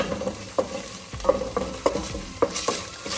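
Oil and green curry paste fry in a pan over medium heat, a steady close sizzle broken by several sharp scraping stirs and spatters at irregular intervals, with no talking.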